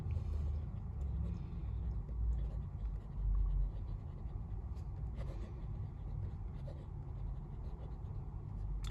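A Jinhao 92 fountain pen with a medium nib and Monteverde ink scratching softly across paper in close, continuous strokes, set against a low rumble of background traffic.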